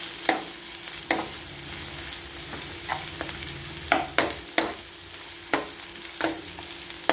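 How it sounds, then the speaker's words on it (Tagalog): Onion, garlic and ginger sauté in a hot pan, a soft steady sizzle punctuated by repeated sharp scrapes and knocks of a utensil stirring at irregular intervals, close and fairly quiet. "magigisa muna tayo ng onion, garlic at saka ginger"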